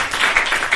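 A comedy podcast audience gives a short burst of clapping. It comes as a few quick, uneven swells and stays fairly loud throughout, with no voices over it.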